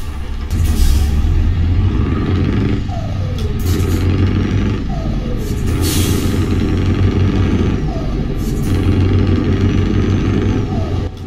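Heavy truck V8 engine fitted with a straight-pipe muffler mod in Euro Truck Simulator 2, a loud, rough low burble running continuously with several short hissing bursts and rising whistles recurring every couple of seconds.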